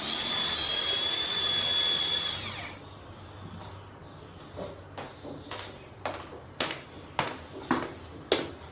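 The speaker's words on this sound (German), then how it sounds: "ich muss gerade noch ein Loch bohren" Electric drill boring a hole indoors: a loud continuous whine for about three seconds, then a series of short sharp knocks and clatters spaced roughly every half second.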